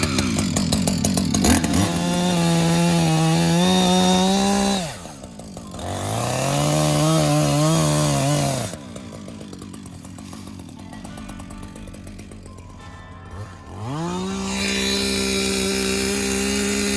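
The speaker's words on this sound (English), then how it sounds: "Chainsaw time." Chainsaw cutting through a tree to free a stuck Land Rover LR3 on a wooded trail, close and loud, with the engine revving hard in long bursts, dropping to a lower idle between cuts.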